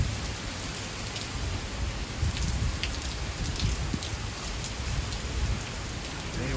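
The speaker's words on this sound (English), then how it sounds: "y'all can see that rain kind of flying sideways off the house there" Heavy storm rain pours steadily and is blown sideways off a house, a dense continuous wash of drops and spatter with occasional gusty swells and no voices.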